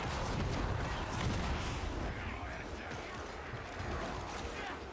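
Machine gun fire in a video game, heard as a dense, continuous rattling rumble that holds at a steady, fairly loud level throughout.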